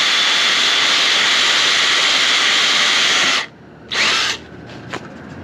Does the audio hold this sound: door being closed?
no